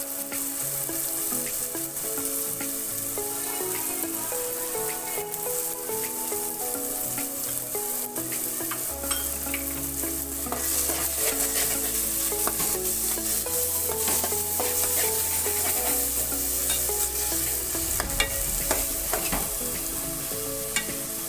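Coconut masala paste with tomato frying in a pan for a Kerala-style fish curry, giving a steady, close sizzle with occasional stirring scrapes and no talking.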